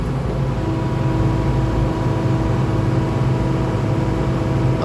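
An excavator engine runs at high idle, driving its hydraulic pumps in two-pump flow, and gives a loud, steady, close-up mechanical drone with a constant hum and no change for the whole stretch.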